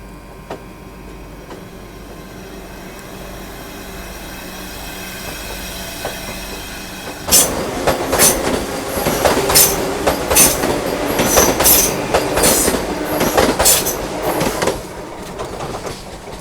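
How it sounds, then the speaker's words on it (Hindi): The Vande Bharat Express, train 20175 from Banaras to Agra Cantt, approaches at night, rising from a quiet background into a loud, close passing roar with rhythmic wheel clatter and sharp squeals. "सामने से आ रही है 20-175 बनारस आगरा कैंट वंदे भारत।"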